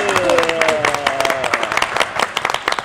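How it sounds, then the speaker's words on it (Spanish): A television studio audience applauds for a birthday, with dense, rapid clapping at close range and a bright whistle rising over it, while a voice speaks under the crowd. "Démosle un aplauso, por favor"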